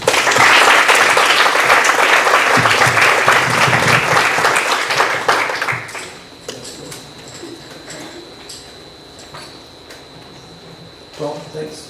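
An audience applauds to welcome glass artist Tom Patti at a lecture: dense, sustained clapping fills the room for about six seconds, then drops to quiet room tone with a few stray claps and faint murmurs.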